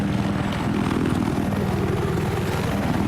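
A scout helicopter in a video game flies with a steady, close rotor thump and engine whine, loud and continuous throughout, with no talking.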